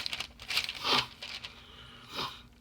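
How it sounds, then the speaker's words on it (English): Paper book pages turn and rustle in a few quick crinkling swipes, close up and fairly soft. "I'm trying to get my pages turned."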